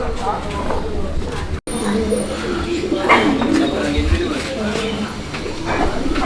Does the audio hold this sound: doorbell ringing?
no